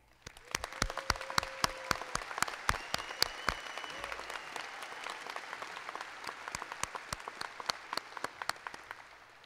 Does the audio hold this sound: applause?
yes